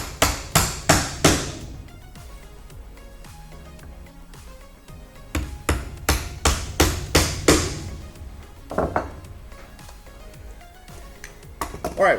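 A nail is hammered into a wooden dowel on a hand-tool-built folding stool, heard as bursts of sharp, close hammer strikes in quick rhythmic runs separated by pauses, with some talking in between.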